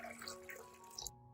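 Water poured into a large bowl to make a soaking solution for herbs, a quiet, steady splashing stream lasting about a second before it stops abruptly.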